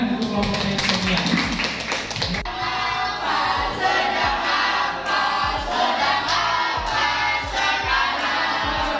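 Classroom applause for a presenting group during a civics lesson, a burst of many hands clapping that cuts off after a couple of seconds, followed by scattered taps and a voice speaking over the room.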